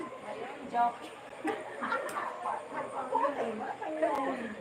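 A small dog yips and whimpers in short bursts while people chatter and laugh nearby, in Bicol province, Philippines.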